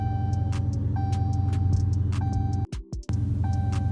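An SRT vehicle fitted with a push-button start runs at a steady idle, with a constant low engine hum and faint periodic ticking. Near the end the engine sound cuts out briefly and then resumes.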